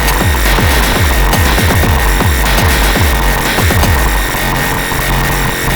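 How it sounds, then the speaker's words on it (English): A Mimeophone pulse routed through a modulation mixer on a modular synth, a loud dense drone with repeating descending pitched blips in a fast irregular rhythm. "I'm gonna send that mimeophone pulse out also to the modulation mixer"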